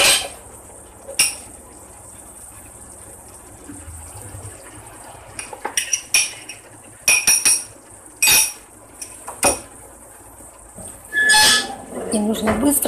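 A spoon or utensil clinks and scrapes against a pan while minced meat with two spoonfuls of wheat flour is stirred, in scattered short knocks and clatters at close range with quiet gaps between.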